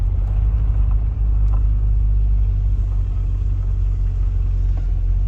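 A 1972 Ford Thunderbird cruising down a rural farm road, with a steady, loud low engine and road rumble running continuously and faint occasional knocks over the drone.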